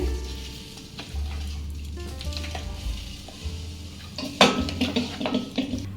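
Oil being stirred into chicken in a pot, with a low sizzle, wet squelching and the clink of a spoon against the metal, building to louder scraping toward the end, no talk.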